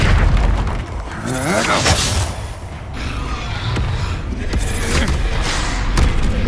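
Spell blasts in Hogwarts Legacy, Expulso among them, erupt as deep booms under loud shouted spell incantations and game combat noise.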